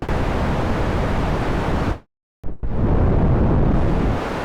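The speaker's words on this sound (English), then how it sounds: "That sounds like pink noise." Synthesizer pink noise, a loud dense broadband hiss that holds steady, cuts to silence for a moment, then returns at full strength.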